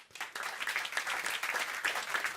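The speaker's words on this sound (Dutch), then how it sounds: "Jou even een applaus" A small crowd at a beer festival event gives brief, moderately quiet applause with individual claps distinct in the mix, rising quickly and continuing evenly.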